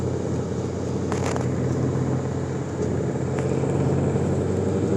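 A 2020 Ford GT500 on a racetrack, its engine rumbling steadily and close throughout, with a brief higher burst early on and no talking.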